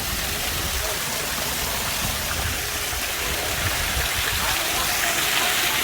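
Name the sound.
water pouring down a built waterfall at a beach house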